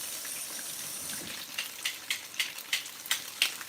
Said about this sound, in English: And I like mine to fry up just like it is frying up.